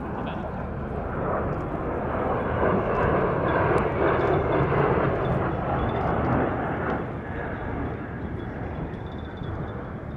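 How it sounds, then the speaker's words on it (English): Boeing P-8A Poseidon jet of the Royal Australian Air Force flying past at an airshow, a loud broad roaring engine rumble swelling and easing slowly, distant and sustained throughout. "And now one of Australia's 12 P-8A Poseidons."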